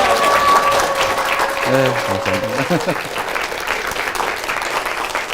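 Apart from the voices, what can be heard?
audience applause welcoming a mayor at Harvard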